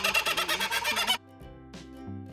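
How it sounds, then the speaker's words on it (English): Loud birds in an enclosure give rapid calls in a dense clucking chorus for about a second, then cut off, leaving quieter background tones and a brief rustle. "There are birds that are super loud."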